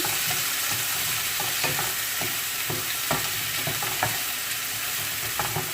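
Onion, scallion, thyme, garlic and Scotch bonnet pepper frying in a pan over low heat, a steady close sizzle with occasional soft stirring scrapes and ticks.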